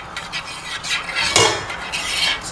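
Crab is stirred in a sauce with water in a cooking pot for Singapore chilli crab, giving scraping, rasping utensil strokes against the pot with a brief wet sizzle, close and continuous, with no talking.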